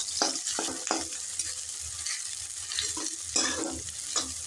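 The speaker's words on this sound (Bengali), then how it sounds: "এবার পেঁয়াজ কুচোগুলোকে হালকা করে ভেজে নেব।" Chopped onions and cumin seeds frying in hot oil in a pan, with a steady sizzle and a few sharper crackles and stirring scrapes spread through, close and fairly loud, with no talking.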